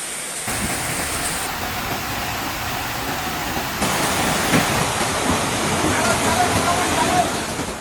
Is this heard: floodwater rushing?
yes